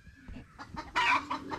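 Chickens clucking nearby in a rapid run of short, uneven clucks with one louder burst in the middle, set over a faint background.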